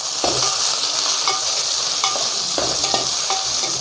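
Shallots, ginger and garlic sizzle loudly in hot oil in a pan for a Kerala fish curry, with a constant bright hiss broken by repeated clinks and scrapes of a spoon stirring.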